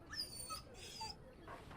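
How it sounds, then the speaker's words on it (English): A dog in the Dragon Age: Origins video game whimpers and yips in short, high, thin cries, three brief faint whines spaced across a quiet background. "That's my dog you're talking to."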